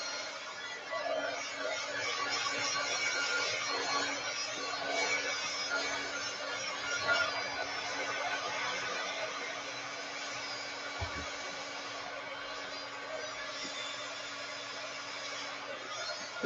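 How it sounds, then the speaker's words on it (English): Heat gun drying watercolor paint and embossing powder on a mixed media painting, a continuous close blowing hum that stays steady and loud, with one brief low thump partway through. "You got to completely dry it now. And I hold my heat gun"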